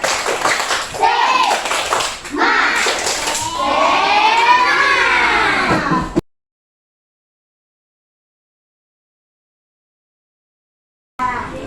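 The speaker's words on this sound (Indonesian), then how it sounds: "coba kita tepuk semangat, tepuk semangat" A classroom of children performs the 'tepuk semangat' spirit clapping chant, rhythmic clapping mixed with chanting voices for about six seconds, then a long silence before a voice returns.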